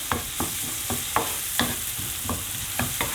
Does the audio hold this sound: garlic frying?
yes